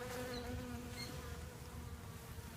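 Honey bees buzz during a hive inspection, a dense, continuous close-up drone from many insects, quiet overall and with no talking.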